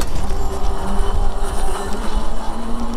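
Electric motor on a custom Sikk UFO beach cruiser e-bike whines and rises in pitch as it slowly accelerates, loud and close over road and wind noise.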